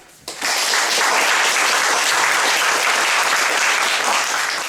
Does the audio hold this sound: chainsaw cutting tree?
no